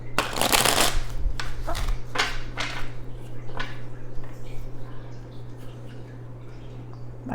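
Tarot deck being shuffled and split, a loud riffle of cards at the start followed by several shorter card flicks and handling sounds, close and with no voices.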